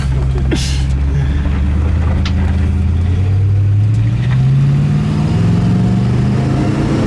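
A 1972 Buick GS convertible engine revs up steadily, its pitch rising as it accelerates, loud and close with a constant drone throughout.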